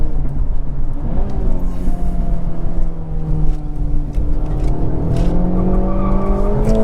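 A 2024 Acura Integra Type S with a helical limited-slip differential powers out of a corner on the road, its engine droning loudly and rising in pitch as it accelerates, heard steadily from inside the car with no talk.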